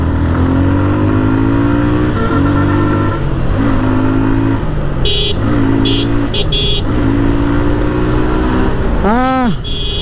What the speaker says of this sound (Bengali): প্রায় একটা বছর পরে জিক্সার মোনোটোন বাইক রাইড করতেছি।